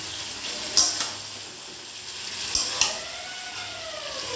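Chicken pieces and pre-fried potatoes sautéing in oil in a pan for Bengali chicken kosha, a soft steady sizzle with a few brief scraping stirs of a spatula, heard close and without talk.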